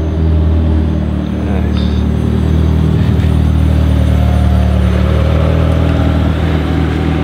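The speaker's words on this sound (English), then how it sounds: "Got a McLaren coming in." A McLaren supercar rolls in at a cars-and-coffee meet, its engine a steady low rumble under continuous crowd chatter and a brief spoken remark.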